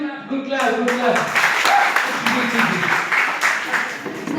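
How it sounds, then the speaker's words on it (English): Group of people clapping for a singing group, a brisk spread of many hands applauding close by, overlapping with talk and cheerful voices for the full stretch. "Okay, give them a good clap."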